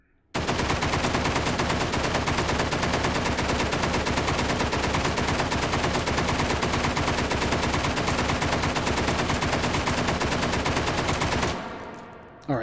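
Sustained automatic gunfire from a bolt-hold-open gun in the VR shooter Hot Dogs, Horseshoes & Hand Grenades, a steady, loud, rapid stream of shots lasting over ten seconds before cutting off.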